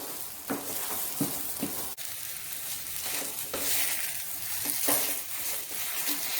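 A kolai dal kochuri filling is stirred continuously in a frying pan (kadai), giving close scraping and sizzling with repeated spatula strokes throughout and no voices.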